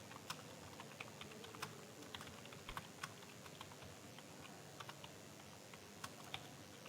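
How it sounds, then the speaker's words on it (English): Steady typing on a computer keyboard, a fast stream of light key clicks with a few sharper taps, close up and with no voices. "Now whatever sentence you wanted to enter, you can type the okay."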